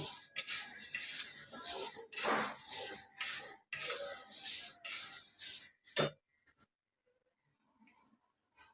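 Horse gram dry-roasted in a pan and stirred, giving a dense, continuous scraping rasp that runs for about six seconds and then stops, leaving near silence with a few faint clinks.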